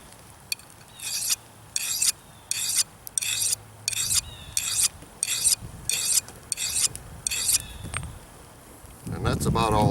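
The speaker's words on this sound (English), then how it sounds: "A couple scrapes along each edge." A SOG Bowie survival knife edge drawn across a sharpener in about ten evenly spaced rasping scrapes, close and distinct against a quiet background, with no talking.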